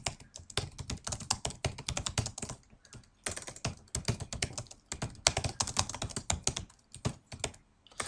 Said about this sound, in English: Then I'll start writing the text of the post.